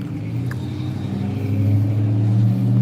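A heavy vehicle engine rumbles steadily nearby, its low drone swelling slightly as it rolls past.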